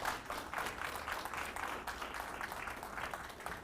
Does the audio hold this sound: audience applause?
yes